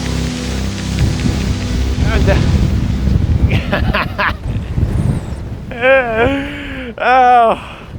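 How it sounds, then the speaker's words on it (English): Loud rumbling wind in cold, hurricane conditions buffets the microphone for several seconds, then eases as voices speak briefly near the end. "It's just really windy and cold"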